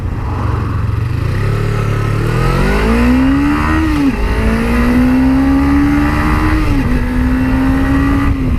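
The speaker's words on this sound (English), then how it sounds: "just sort of thrashing it there through the lower parts of the gearbox to see what she felt like" A 2017 Suzuki GSX250R motorcycle accelerating hard through its lower gears, the engine pitch climbing steadily then dropping at each quick upshift, three rising pulls heard loud and close under heavy wind rush.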